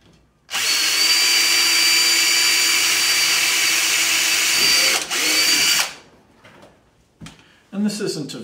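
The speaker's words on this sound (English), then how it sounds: "the first thing I do is drill a pilot hole" A power drill bores a small pilot hole, roughly a 3/16 bit, into PVC pipe for a vertical hydroponic system. It runs loud and steady for about five seconds with a brief dip, then stops, followed by quieter handling clatter.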